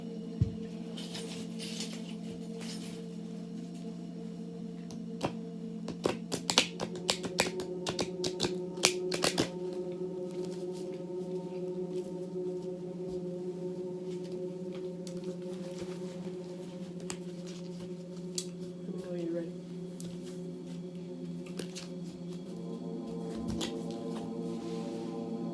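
Tarot cards are shuffled by hand in bursts of quick riffling and soft slaps, close and fairly quiet over a steady low background hum.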